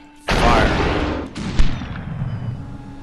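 A gunshot in the video game SuperHot goes off with a sharp, loud crack and a decaying tail, followed by a second, lighter shot about a second later.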